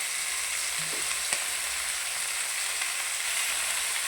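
Fish curry stirred in a pan, a soft steady sizzle with a faint scrape or two, quiet and close with no talking.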